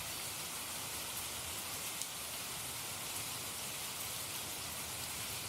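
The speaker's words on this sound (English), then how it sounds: "And the nature sound of rain and lightning?" Steady rain playing as a nature sound on a live stream, a constant even hiss of falling drops with no distinct thunder, moderately quiet throughout.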